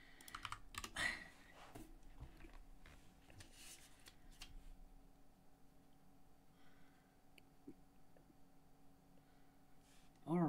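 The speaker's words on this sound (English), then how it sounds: "Where is the backtick on my keyboard?" Someone types on a computer keyboard, the quiet clicking of keys coming in short irregular bursts, denser at the start and sparser later, under a low steady hum with a brief voice at the end.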